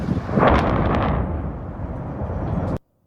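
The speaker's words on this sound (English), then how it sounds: "There's been another massive explosion at a chemical plant in Port Neches," A massive explosion at a chemical plant in Port Neches, Texas, hits as a loud booming blast, then a sustained roaring rumble that cuts off abruptly.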